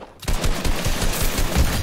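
Shotgun fire in Fortnite Battle Royale: a loud, close burst of rapid blasts beginning abruptly after a brief quiet moment and continuing for under two seconds.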